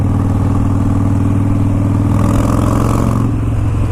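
A Harley-Davidson Dyna Super Glide motorcycle engine runs loud and close, holding a steady, throbbing V-twin rumble that swells slightly as the throttle is opened partway through.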